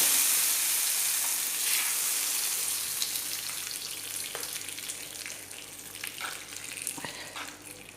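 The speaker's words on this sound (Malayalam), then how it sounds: "ഇനി ഇതിലേക്ക് നമുക്ക് വറുത്തിടാം" A hot tempering of mustard seeds and chillies hits kappa puzhukku made with brown chickpeas. It sets off a loud, hissing sizzle that gradually fades to a quieter crackle with scattered pops and a few stirring scrapes.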